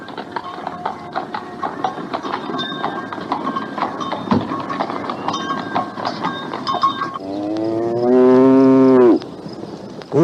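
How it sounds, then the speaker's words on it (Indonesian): A water buffalo pulling an old cart along a road gives a long, loud moo near the end, after several seconds of rhythmic clopping and creaking movement. "nampaklah sebuah gerobak tua ditarik seekor kerbau bergerak melalui jalan itu"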